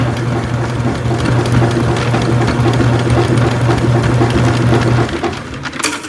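An Albott auto-feed electric drain snake, 75 ft by 3/8 inch cable, winds its cable back with a loud, steady motor whir and rhythmic mechanical clatter, close up, cutting off sharply near the end.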